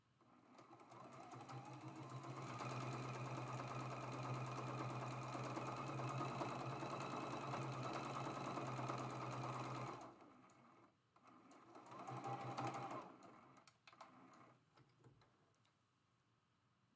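Sewing machine stitching a Friendship Star quilt block: a fast, even run of needle strokes for about eight seconds, a pause, then a short second burst of stitching, fairly quiet and close.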